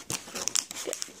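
Brief crinkling and tearing of a plastic Pokémon card pack wrapper being ripped open close up, a few quick rustling bursts.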